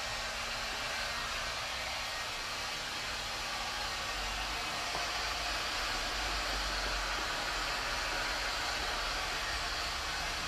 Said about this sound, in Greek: θα χρησιμοποιώ το πιστολάκι του θερμού αέρα